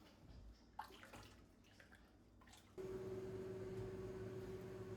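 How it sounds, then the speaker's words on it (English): Jelly mixture with fruit pectin at a rolling boil in a pot, a loud steady bubbling and hissing roar that kicks in partway through after quieter stirring and clinks. "I would say that's a pretty rolling boil."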